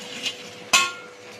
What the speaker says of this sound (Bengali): এবার এর মধ্যে বড়াগুলোকে আমি দিয়ে দেবো।